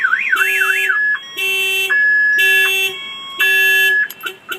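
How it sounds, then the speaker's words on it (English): A car alarm, tripped by a door opening, cycles loudly through its siren patterns: a rapid warbling wail, then repeated steady electronic tones in bursts, ending with short chirps, in Miami. "If somebody opens the door, it's gonna trip the alarm."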